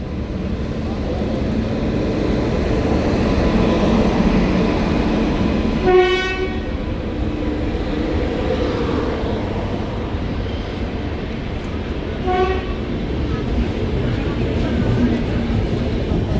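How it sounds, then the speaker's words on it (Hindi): A passenger train arriving at a station platform rumbles loudly and continuously, with two horn blasts, one near the middle and a shorter one later, over station crowd noise. "पूरे 40 मिनट इंतजार करने के बाद अपनी ट्रेन आ चुकी है"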